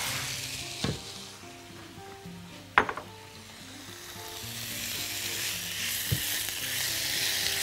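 Chicken pieces and onion fry in a pan with a steady soft sizzle throughout, punctuated by a few sharp clinks of utensils against the pan; no one speaks.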